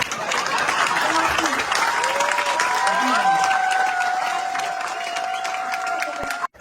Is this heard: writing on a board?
no